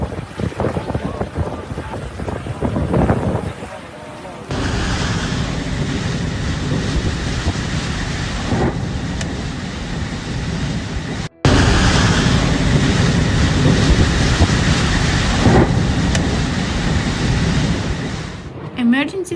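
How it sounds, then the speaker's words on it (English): A storm with powerful winds and heavy rainfall sweeps through Mecca during severe flooding, with a loud, continuous roar of wind buffeting the microphone and rushing rain. The noise surges and drops in bursts, and a voice can be heard briefly. "In addition to the powerful winds, heavy rainfall led to severe flooding in several areas of Mecca."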